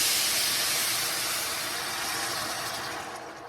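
Beef broth poured into a hot pan after browning shredded beef, giving a loud, steady steamy sizzle and hiss that fades slightly toward the end, with no talking.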